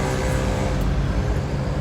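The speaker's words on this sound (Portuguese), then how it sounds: "fui investigar e verifiquei que o barulho na verdade é da embreagem" A worn clutch on a car, making an abnormal noise, comes through as a steady, loud low rumble with a faint whine, continuous across the whole short stretch with no talking.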